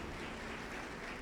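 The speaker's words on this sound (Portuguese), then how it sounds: "Pode aplaudir ao Senhor" A church congregation applauding together at a Christmas service, with dense, steady clapping that carries evenly throughout and no clear breaks.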